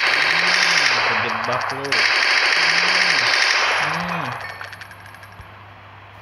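Rapid automatic gunfire in a Minecraft zombie survival game, a steady mechanical rattle that holds loud for several seconds before tapering off, with someone speaking briefly over it.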